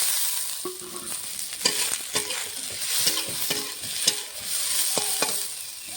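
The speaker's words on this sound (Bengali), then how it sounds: "দিয়ে দেবো কেটে রাখা লঙ্কা, রসুন।" Chopped green chillies and garlic frying in hot oil, a close, bright continuous sizzle punctuated by repeated scraping taps of a spatula stirring the pan at a quick, uneven rhythm.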